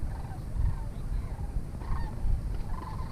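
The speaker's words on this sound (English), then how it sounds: "You hear all those geese?" A flock of geese honks repeatedly outdoors beside a pond, a chorus of overlapping calls at a moderate distance over low background rumble.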